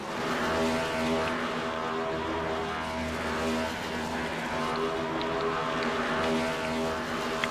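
Race cars crossing the start-finish line at Watkins Glen in the iRacing sim, a steady loud engine roar that holds for the whole stretch with no voices.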